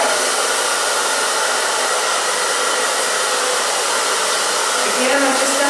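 A hair dryer blows continuously on short hair to dry it fully, its loud, steady whooshing drone close up and unbroken throughout.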